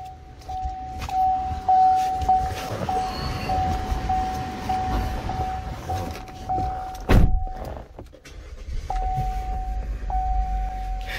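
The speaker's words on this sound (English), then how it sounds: "start the vehicle" Inside a 2018 Chevy Malibu with a reduced-power fault, a repeating warning chime dings through a quiet cabin before the engine cranks with a sharp burst, then settles into a low, steady idle rumble.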